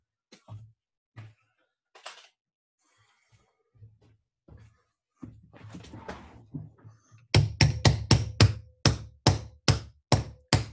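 A hammer strikes a metal thumb punch in a run of about nine sharp, evenly spaced, loud impacts near the end, after scattered lighter taps and handling noises.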